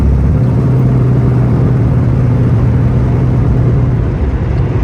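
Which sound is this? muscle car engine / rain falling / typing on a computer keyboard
muscle car engine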